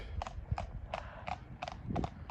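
Two horses walking up a road, their hooves clip-clopping in a steady, even rhythm at moderate distance over a low outdoor background.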